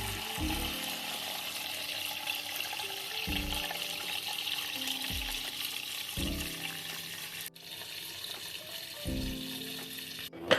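Water pours into a pot of pork skin with salt, making a continuous splashing rush and a faint sizzle underneath, close and fairly loud, with no talking.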